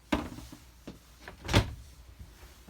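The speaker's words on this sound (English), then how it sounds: "when you're opening, you always open the front door first, back door last, and they're an accordion like that" Folding accordion doors on a 2017 ERA RV bathroom are opened, giving a few short sharp clacks and slides with one louder knock midway, close by and with no talk.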